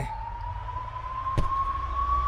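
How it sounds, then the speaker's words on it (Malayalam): An ambulance siren passes on a highway roughly twenty metres away, holding a steady, slowly rising wail over low road rumble, with a brief thump partway through and no talking. "അതൊരു ആംബുലൻസ് പോകുന്ന ശബ്ദമാണ് കേൾക്കുന്നത്"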